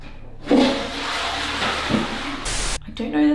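An Australian dual-flush toilet flushes close by in one loud rushing surge lasting about two seconds, which cuts off abruptly. Faint background sounds follow.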